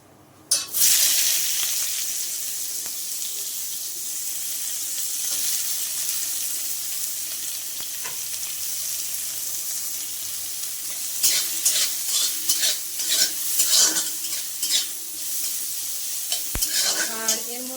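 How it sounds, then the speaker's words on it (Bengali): Mustard seeds fry and crackle in hot oil in a pan while being stirred, a steady close sizzle running throughout with sharper scraping and popping bursts toward the end. "এই সরিষাটা যখন ভাজা হয়ে যাবে তখন এর মধ্যে কাঁচা পেঁয়াজ আর লঙ্কাটা দিয়ে দিতে হবে"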